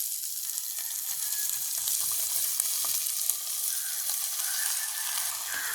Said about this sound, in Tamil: வெங்காயம் வதங்கிட்டு நாங்கள் கொஞ்சம் காயும் சேர்த்து கொள்வோம்.